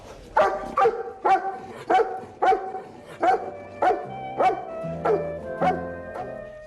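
A dog barks about ten times in a steady, evenly spaced series, loud and close, with a low hum underneath in the later part.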